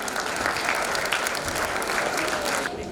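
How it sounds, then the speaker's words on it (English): A school auditorium audience at an English Week celebration breaks into steady, dense applause for the chief guest, a continuous wash of many hands clapping close by that tapers slightly at the end. "please welcome him with a big round of applause"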